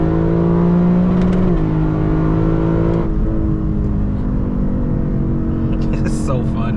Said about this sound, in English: Hit a little rev limiter now.